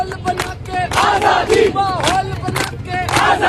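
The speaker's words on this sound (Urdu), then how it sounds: "پولیس اہلکار بھی عمران خان زندہ باد کے نعرے لگانا شروع ہو گئے" Outside Adiala jail, a crowd of people chants political slogans, with loud, close voices shouting in rhythmic bursts that rise and fall together.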